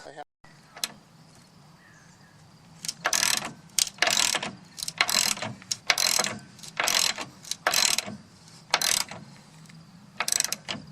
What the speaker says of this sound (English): I'm going to go through and tighten up all the bolts on the brackets